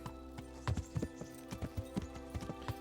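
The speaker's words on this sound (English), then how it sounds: "a nice morning ride on a fair maiden horse. Clop, clop, clop, clop." Horse hooves clip-clopping during a morning ride in the medieval video game Kingdom Come Deliverance, a steady run of close, distinct hoof clops over a quiet background hum.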